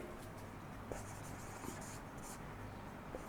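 Pen writing on paper during a math lesson gives faint, steady scratching strokes under a noisy background hiss, with a few light taps.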